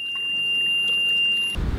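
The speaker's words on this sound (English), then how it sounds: "Yep, that was the high water alarm." A high water alarm on a sailboat sounds as a steady, piercing electronic tone held for about a second and a half before cutting off abruptly, with a low rumble of water and hull noise behind it.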